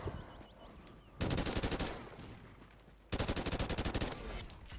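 Two loud sustained bursts of rapid gunfire in Call of Duty Ghosts gun game mode, each a dense rattling volley after a quieter stretch of background game noise.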